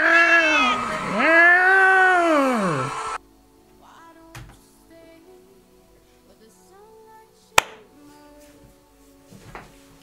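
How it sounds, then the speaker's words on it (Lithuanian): A cat gives two long, loud, drawn-out meows close by, then a quiet room follows with a sharp knock and faint small clatters. "Nu, katinė."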